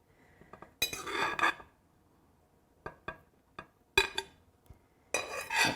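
Roasted vegetables being moved into a serving dish, with sparse clinks and scrapes of utensils against cookware in several short bursts, close and fairly clear, with no talking.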